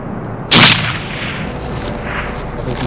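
A single sharp, loud rifle shot cracks out in the open backcountry during a bear hunt, followed by a rolling echo that fades gradually under steady outdoor ambience.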